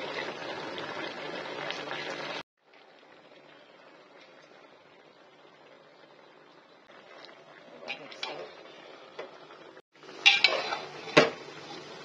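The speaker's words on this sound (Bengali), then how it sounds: "কুকারে রান্না হচ্ছে পুঁই শাক মাংস দিয়ে মিক্সিং হচ্ছে" Malabar spinach, meat and potatoes being stirred together in a pressure cooker, with metal utensil clinks and scrapes that grow louder and sharper near the end after a quieter stretch of soft stirring.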